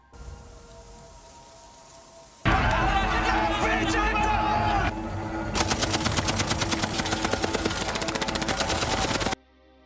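In a film, after a quiet start, loud chaotic noise erupts, then rapid machine gun fire rattles in a long sustained burst before abruptly cutting off.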